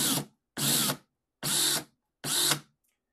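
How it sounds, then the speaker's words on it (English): A power drill spinning a case trimmer on .308 Winchester brass whirs in four short bursts of about half a second each, separated by brief silences, close and loud. "So I put it into the shell holder, hooked up to my drill."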